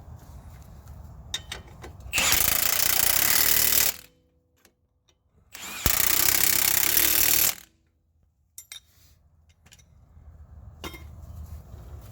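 A power tool, likely an impact wrench, tightening pinch bolts on a Dodge Caravan wheel hub assembly, two loud close rattling bursts of about two seconds each, separated by quiet, with light clicks and tool handling around them.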